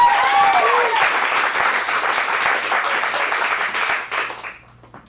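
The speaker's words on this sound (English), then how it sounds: "Let's give a big round of applause." Audience applause fills a small acting showcase for adult drama performers, steady and close throughout, with a few louder claps and cheers at the start, then tapering off near the end.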